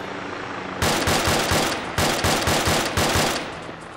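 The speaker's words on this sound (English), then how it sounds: "What are you shooting at? That heli." Rapid automatic gunfire in City Life RPG 2 aimed at a helicopter, loud dense bursts of shots in two long strings over a steady background drone.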